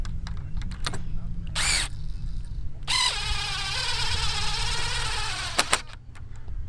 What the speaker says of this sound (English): Back to the drill.